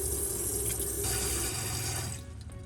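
Hot water pours into a container for cleaning an old scorched pan, a close, steady rushing stream that thins out near the end as the flow eases.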